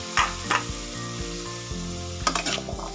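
Chickpeas tossed into a hot pan for fried rice sizzle loudly, with sharp scraping stirs and clanks of a spatula punctuating the steady frying hiss; no talking.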